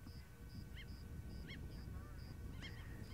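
A wattled lapwing calls on an African safari, giving repeated sharp, ringing calls in short bursts over a steady, noisy outdoor background.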